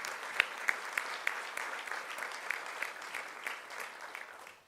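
A crowd at the Menifee State of the City Address claps for the city staff in a steady, moderately loud wash of applause with a few sharp individual claps near the start, fading slightly toward the end.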